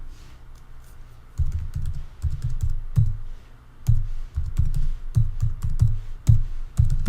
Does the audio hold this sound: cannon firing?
no